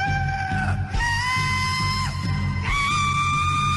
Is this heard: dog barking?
no